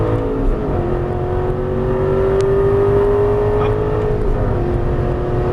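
An Aston Martin V8 Vantage S accelerates on a race track, heard from inside as a loud, continuous engine drone with a slowly rising pitch under steady road and wind noise.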